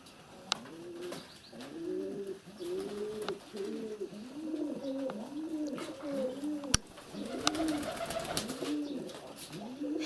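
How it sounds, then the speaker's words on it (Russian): Many purebred feather-footed pigeons cooing in a loft in overlapping, rolling calls close by, a continuous chorus with occasional sharp clicks and flutters in the background. "Хорошие голуби."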